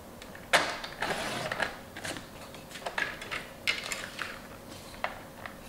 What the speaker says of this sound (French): Donc on va venir couper une bande de 8 cm.